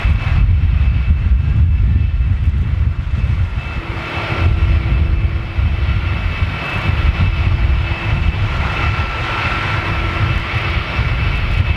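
Boeing 747 jet engines run steadily after landing at Miami, a loud continuous roar and whine filling the whole stretch, with a sustained tonal hum entering partway through and no voices.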